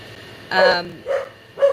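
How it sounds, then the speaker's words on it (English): A dog barks three times, sharp and fairly close, with short pauses between the barks; the first bark is the loudest and the next two are shorter yips. "I have no idea what she's barking at."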